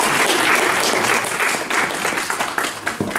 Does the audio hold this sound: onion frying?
no